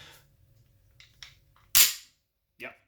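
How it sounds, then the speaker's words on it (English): The slide of a Canik METE pistol slams forward off its ambidextrous slide release with one sharp, close metallic snap, followed by a quieter click, in a quiet indoor tabletop setting. "It is ambi for the slide lock, slide release."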